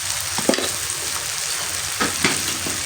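Spices for a chickpea curry fry in a pan with a steady hiss and crackle, broken by a few sharp scraping stirs of a spoon.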